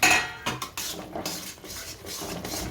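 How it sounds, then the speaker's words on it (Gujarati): A spoon stirs ground peanuts into hot melted jaggery in a pan, making scraping and clinking strokes against the metal, close and irregular, with no voices. "આને ભેળવી નાખશું ગોળમાં સારો"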